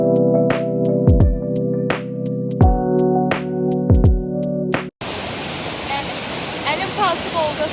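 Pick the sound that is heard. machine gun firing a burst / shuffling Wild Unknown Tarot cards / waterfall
waterfall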